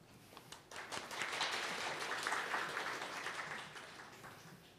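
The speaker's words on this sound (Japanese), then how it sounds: "拍手でお迎えください。" An audience at a PyCon JP 2022 Python conference claps to welcome a speaker to the stage, a steady wash of applause building after the first second and holding for several seconds before easing slightly.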